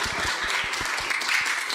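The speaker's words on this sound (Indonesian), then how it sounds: "Ya betul, tepuk tangan dulu dong" An audience at an interactive religious dialogue claps in a brief, steady patter of many hands, moderately loud and close, with no talking over it.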